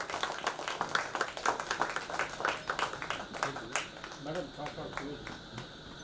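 A crowd gives steady applause, dense and continuous throughout, with a voice talking over it.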